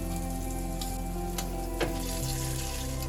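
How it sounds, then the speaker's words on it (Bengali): Whole cumin seeds and two bay leaves sizzling in hot oil in a pan, a steady close hiss of frying with a few small pops and crackles throughout. "এবার আমি এখানে হাফ চামচ গোটা জিরে ফোড়নে দিচ্ছি আর দিচ্ছি দুটো তেজপাতা।"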